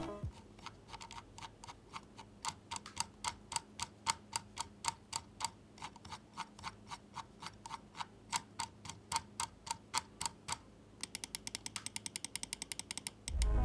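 Rapid, steady mechanical clicking from the scroll wheel of a Hator Quasar Wireless mouse, evenly spaced ticks close up, speeding into a quicker burst of clicks near the end.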